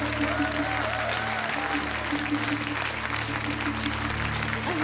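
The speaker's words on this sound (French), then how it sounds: "J'arrête d'applaudir." A French TV game show studio audience claps in a dense, even wash of applause over a steady background hum, sustained at moderate loudness for the whole stretch.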